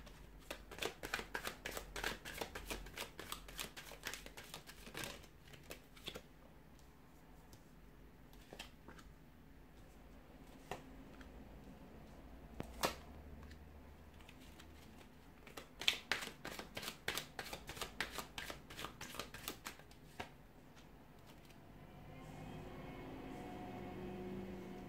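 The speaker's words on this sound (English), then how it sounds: "So we'll give the cards a shuffle here" Tarot cards shuffled by hand over a long stretch, with quiet riffling and repeated sharp flicking snaps in quick irregular bursts, and a soft steady rustle toward the end; no talking.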